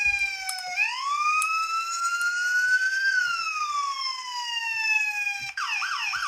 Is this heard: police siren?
yes